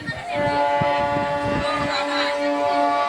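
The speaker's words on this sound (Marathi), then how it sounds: "आता हॉर्न वाजलाय आणि आता निघाली रेल्वे बघू शकता निघाली रेल्वे" A train horn blares steadily over rumbling, clattering rail noise as the train starts moving, loud and close, with people talking underneath.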